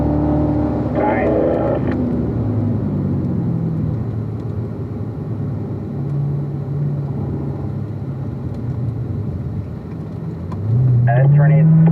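A car engine drones steadily on the Spring Mountain East race track, holding a mid-pitched hum through a corner, then its pitch rises sharply near the end as it accelerates, with a driver talking over it.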